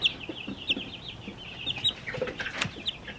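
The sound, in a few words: chicks peeping in a shipping box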